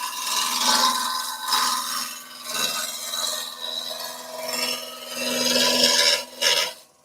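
A wooden spindle turns on a lathe while a tool takes repeated cuts, giving rhythmic rasping and scraping passes that swell and fade, close and moderately loud with no talk.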